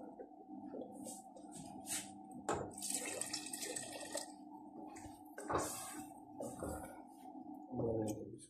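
Water runs from a tap or is poured steadily into a cooking pot in a home kitchen, a continuous splashing stream with a few clinks of the pot, close and fairly quiet.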